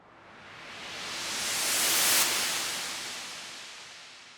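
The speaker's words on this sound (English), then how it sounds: "which is the noise riser, which are printed down." A white noise riser from a free audio plugin swells steadily to a bright peak, then falls away just as smoothly, rising and fading over a few seconds.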